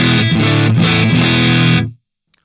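A Strat's neck pickup through a Dr. Z Remedy amp on a high-gain setting, dense distorted chords played loud and close with a brief dip midway, then an abrupt stop into silence.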